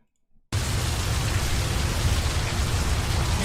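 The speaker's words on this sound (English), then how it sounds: "Rain falling like the tears of angels." Heavy rain falls as a sound effect, arriving abruptly after a brief near-silence and then holding as a dense, steady, loud hiss with no letup.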